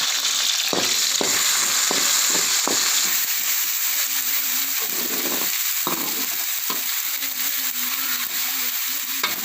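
Curry leaves and tomato sauté in a kadai, giving a continuous hiss and sizzle punctuated by repeated sharp clicks and scrapes of stirring, close up and without speech.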